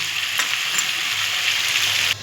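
Vegetables fry in a pan with a steady, close hiss of sizzling oil and a few light clicks, and the sizzle cuts off abruptly at the end.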